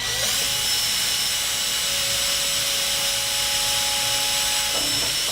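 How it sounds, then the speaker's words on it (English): An electric drill with a small bit whirs steadily at high pitch for several seconds, drilling a hole, close up and continuous, with no voices. "I start off at a really small drill bit."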